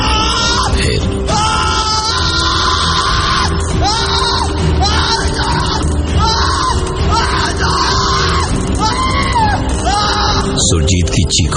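A man screams in agony in a dramatized horror story, repeated loud, strained yells and wails rising and breaking over a dense, noisy backdrop, close and harsh throughout.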